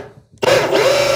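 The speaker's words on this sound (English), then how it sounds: "I'm not drilling a hole into my table." A power drill bores a hole through a wooden beehive top, starting abruptly after near-silence and then running as a loud, steady whine with a brief dip in pitch partway through.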